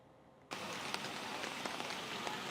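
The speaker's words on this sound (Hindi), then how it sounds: "लगातार बारिश हो रही है" Steady drizzle and rain falling in Delhi, a dense continuous hiss with scattered drop ticks, starting abruptly and holding an even level with no voices.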